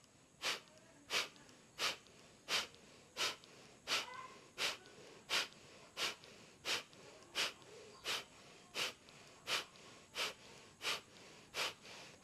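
Rapid Breath of Fire pranayama breathing from one person, with sharp, evenly spaced forceful exhales at roughly two per second. They are close but fairly quiet and continue steadily without talk.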